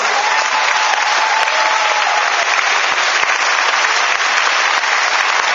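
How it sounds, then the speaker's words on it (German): A crowd applauds at a farewell event at Connichi convention in Kassel, a thick, even wash of clapping that holds at full strength throughout, close and loud with no speech over it. "Komm mal einen Applaus"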